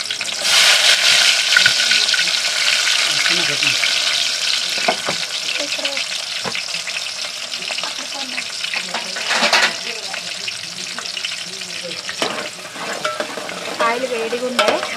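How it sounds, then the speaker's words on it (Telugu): Chopped onions frying in hot oil for a country chicken curry, a loud, steady sizzle with crackling that runs throughout, scattered stirring clatter, and occasional faint sounds in the background. "ఫస్ట్ అయితే ఉల్లిపాయలు వేసుకుంటున్నాను"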